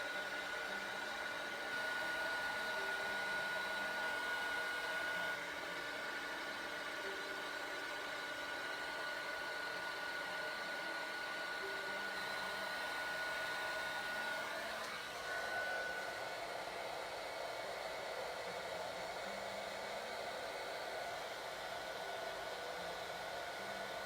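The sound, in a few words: heat tool warming embossed card background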